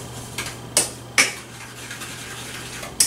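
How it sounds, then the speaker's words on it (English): A spoon stirs lemon juice and sugar reducing over low heat in a pan, faint scraping broken by three or four sharp metallic clinks against the pan's side. "I'm going to take my spoon here and give it a little stir."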